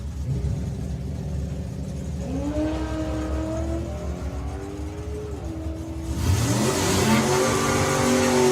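BMW car on a solo drag-strip run: the engine climbs through rising revs in several pulls, then surges louder and harsher as it launches down the track, with a rumbling roar close by.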